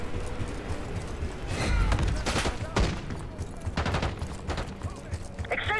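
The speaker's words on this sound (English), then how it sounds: "Exchanging fire!" A gunfight in the Black Ops 6 campaign, with heavy bursts of rifle and automatic fire crackling and thudding continuously over a rumbling battlefield bed, with a voice calling out briefly near the end.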